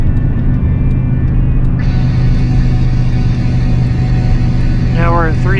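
Gas 8.1-liter V8 engine in a 24-year-old truck holding about 3,000 RPM while towing 18,000 pounds on a mountain drive, a loud, steady close-up drone from start to finish, with a voice briefly heard near the end.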